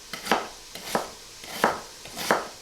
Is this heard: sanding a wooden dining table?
no